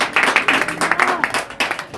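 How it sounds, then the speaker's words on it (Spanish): A church congregation claps in praise to God, the hands landing in a quick, roughly rhythmic pattern of distinct close claps, fairly loud, with voices mixed in. "Denle un aplauso fuerte a Dios."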